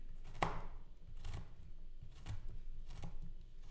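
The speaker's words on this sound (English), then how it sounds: "we just cut up the ginger again." A knife chops ginger on a cutting board in a kitchen, four distinct, evenly spaced thuds close by, with no talking.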